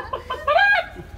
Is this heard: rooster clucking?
yes